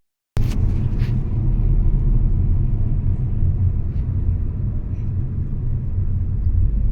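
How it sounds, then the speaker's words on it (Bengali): After a brief silence, a car engine rumbles loudly and steadily with a deep, close, continuous low drone on the road near Ranchi. There are no voices. "ইঞ্জিন"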